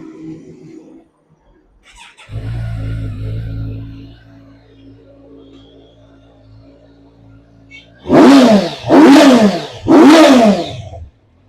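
A 2022 Kawasaki Ninja Z900 motorcycle with about 19,500 km on it starts and settles into a low, steady idle. Then three loud, sharp throttle blips rise and fall in quick succession, close by.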